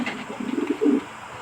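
Pet pigeons coo close by, a few soft low rolling calls in quick succession over a quiet background.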